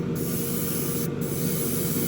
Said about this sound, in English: when you want to now start spraying the body as a whole, you can go ahead and do that